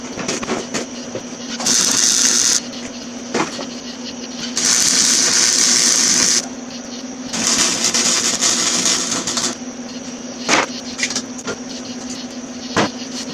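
An arc welder working on a V8 S-10 truck project, three long crackling buzzy bursts of a couple of seconds each with a steady shop hum between them, followed by short sharp clicks and taps.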